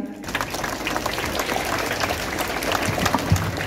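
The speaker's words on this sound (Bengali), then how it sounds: "করতালি দিয়ে অভিনন্দন জানান।" Applause from a crowd at a school ceremony held at Bholananda School, Barrackpore, a dense, steady patter of clapping that sounds moderately close and carries on for the whole stretch without a break.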